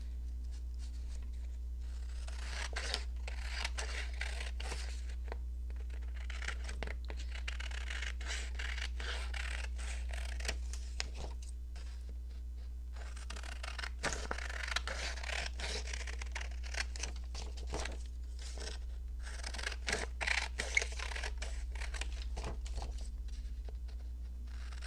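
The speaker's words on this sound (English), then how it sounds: "I need to cut it smaller for sure." Scissors snip and slide through paper in quiet bursts of short, dry cuts separated by pauses, close and faint over a steady low hum.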